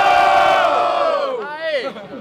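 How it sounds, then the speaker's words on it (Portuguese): A crowd at a student rap battle in Guarulhos, São Paulo, erupts in loud, sustained cheering and shouting, with voices whooping and calling out in waves before tapering slightly. "Quem gostou da rima do Mike faz muito barulho."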